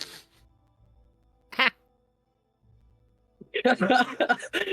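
A squeaky rubber duck toy gives one short, sharp quack, heard between stretches of near silence and followed by a burst of several people talking and laughing.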